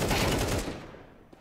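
Gunfire in a shooting video game: a dense, loud burst of rapid shots that fills the first half-second and then tails off into quieter echoes, with one faint later crack.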